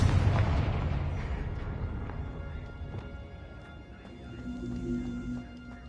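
A Confringo fire spell explodes in the Hogwarts Legacy video game with one heavy, rumbling boom. It fades slowly into a crackling tail with a faint tonal hum rising near the end, and no voice is heard.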